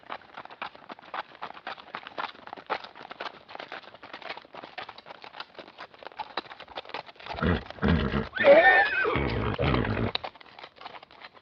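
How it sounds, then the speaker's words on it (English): Horse hooves clip-clop along a country lane, a steady run of soft, fairly distant hoofbeats that swells into a louder, closer passage before fading again. "The clip-clopping of hooves coming down the lane"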